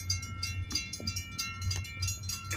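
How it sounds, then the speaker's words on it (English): Canadian National freight train led by an SD70M-2 diesel locomotive rumbles nearby with a steady low engine drone and rhythmic rail clatter, its bright horn-like tones sounding over the top. "We got a train coming."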